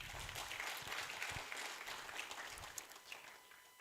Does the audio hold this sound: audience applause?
yes